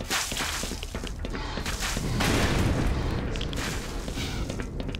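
Loud booming grenade blasts in the video game Black Mesa, with sharp impacts and a swelling rumble in the middle, several bursts over a few seconds.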